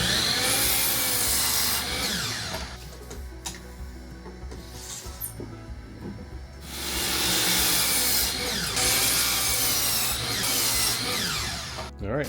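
Wooden wall studs being cut to length for bathroom wall framing, a steady loud sawing rasp that runs for several seconds, eases briefly, then resumes at full strength.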